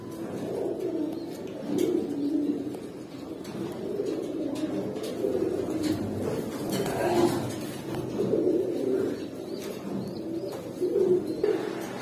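High flyer pigeons on a farm coo in repeated soft, throaty phrases, several birds overlapping in a continuous close murmur with faint chirps and no speech.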